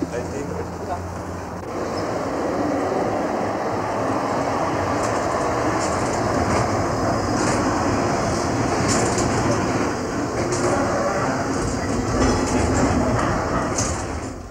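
A tram rumbles steadily along its rails with a continuous rolling roar and faint clatter, heard from inside the car.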